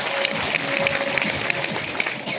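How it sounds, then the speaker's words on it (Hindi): Loud, dense applause from an audience at a network marketing meeting, steady and sustained, with a few sharper claps standing out over the wash. "एक बार दिनेश सर के लिए जोरदार ताली हो, जबरदस्त।"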